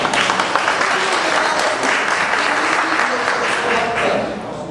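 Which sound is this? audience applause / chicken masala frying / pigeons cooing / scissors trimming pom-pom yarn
audience applause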